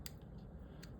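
Scissors snipping beading thread, two or three faint crisp snips against a quiet background, close and brief.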